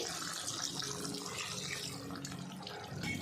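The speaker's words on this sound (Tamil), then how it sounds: "ஒரு 1/2 கப் அளவுக்கு கூட நம்ம தண்ணி சேர்த்துட்டு" Steady rushing splash of water pouring continuously into a cooking pot for chicken gravy, close and fairly loud, with no voices.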